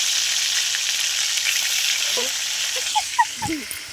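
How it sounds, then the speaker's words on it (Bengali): Fish frying in hot oil for a fish curry, a steady, loud sizzling hiss filling the scene, with a few brief faint voice-like chirps near the end. "মাছগুলো ভেজে নিচ্ছি ভাজা হয়ে গেছে তো তুলে নিলাম"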